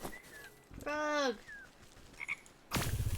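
A frog croaks in the video game Wytchwood, a single bright, warbling croak standing out near and clear against quiet game ambience, with a couple of faint chirps and a soft rustle after it.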